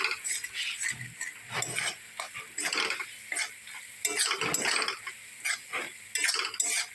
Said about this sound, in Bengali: স্বাদ মতো লবণ দিয়ে সুন্দরভাবে নেড়ে চেড়ে রান্না করে নিতে হবে।